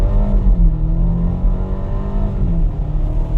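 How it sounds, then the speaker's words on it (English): A car engine is held at high revs while driving without shifting up. It is a steady, loud, droning tone that rises slowly and dips a little near the end, with no voices over it. "I wanted the engine RPMs up high while I was driving it"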